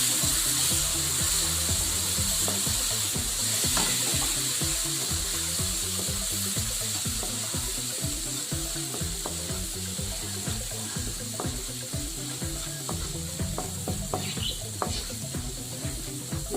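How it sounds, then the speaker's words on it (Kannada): Onion-tomato masala for a mushroom masala curry fries in a pan with about three spoons of water added, giving a steady, close sizzle with a rapid stream of small crackles and stirring scrapes throughout, no voices. "ಇದಕ್ಕೆ ಒಂದು ಮೂರು ಸ್ಪೂನಷ್ಟು ನೀರು ಹಾಕಿ ಚೆನ್ನಾಗಿ ಫ್ರೈ ಮಾಡೋಣ"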